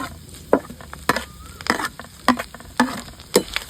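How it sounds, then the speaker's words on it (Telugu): Curry leaves frying in oil in a pan for mango pulihora give a steady sizzle, with close, sharp scrapes of a spoon stirring at roughly half-second intervals. "కరివేపాకు వేసుకొని బాగా వేపాను 1 నిమిషం పాటు."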